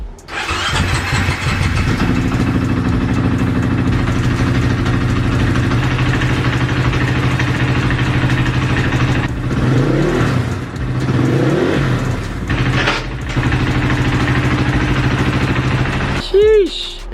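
A KTM 500 EXC dirt bike runs after a top end rebuild with fresh oil and coolant, its single-cylinder engine loud and close throughout, holding a steady idle with a couple of throttle blips and a brief rev near the end.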